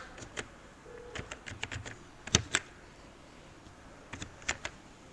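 Keys on a computer keyboard click in short, irregular bursts of typing against a faint background hum.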